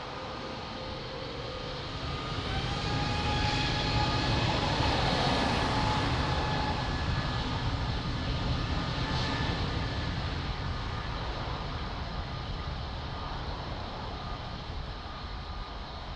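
Airplane taking off from runway 02 at Lisbon Airport: a steady, loud, broad engine roar that swells after a couple of seconds and holds strong throughout, with faint tonal whines riding over the rumble.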